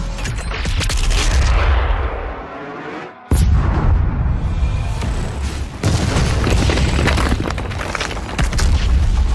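Heavy weapon fire from the video game DOOM: The Dark Ages: loud, dense rolling booms and blasts that fill the whole stretch, broken by one sharp cut to near silence before a sudden massive blast resumes the continuous roar.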